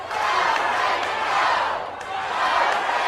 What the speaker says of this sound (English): Crowd at the TNA Asylum, many of them on their feet, chanting for Raven.